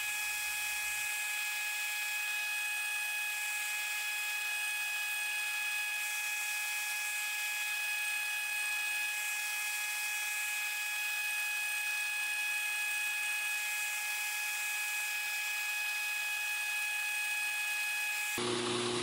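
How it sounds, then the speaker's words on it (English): A belt grinder running a fine 220 grit belt as a knife's bevels are sanded lightly, giving a steady high-pitched whine with faint grinding contact throughout, alone with no talk, stopping abruptly at the end. "So we're doing a 220 grit belt, and we're going very light on these."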